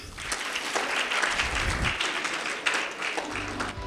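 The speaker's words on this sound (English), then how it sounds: "So let's give him a big round of applause." A crowd at a medical association gala applauds steadily, dense clapping filling the room from start to finish without pause.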